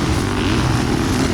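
Kids' 250 dirt bike engine running steadily nearby, a continuous loud droning roar with no voices.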